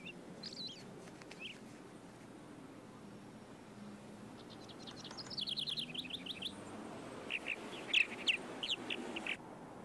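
Purple martins, large swallows, call around martin houses with clusters of bright, rapid chirps and twittering warbles that grow busier toward the end over a soft, steady outdoor background.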